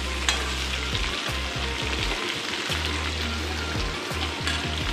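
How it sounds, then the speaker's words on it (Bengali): Drumstick stalks and vegetables fry in oil in a pan, a close, steady crackling sizzle with repeated stirring scrapes in an uneven rhythm. "কাঁকড়ার ডাঁটাটা ভাজা হয়ে গেছে"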